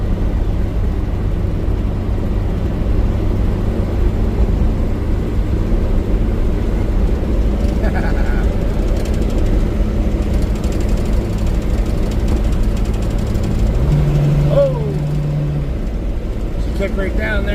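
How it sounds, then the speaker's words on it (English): A 1978 Datsun B210 with a small four-cylinder engine cruising at about 50 mph, loud constant engine drone and road roar filling the cabin, with a voice talking over it. "Doing like 50 miles an hour, this thing feels like you're doing 100."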